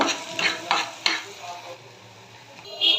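Onion paste frying in a pan, with stirring scrapes and soft sizzling in short bursts at first, then a steady low sizzle; no talking.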